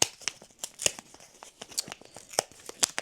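A letter envelope being torn open by hand, with a string of short, sharp paper rips and crinkles in irregular bursts, close by, with no speech.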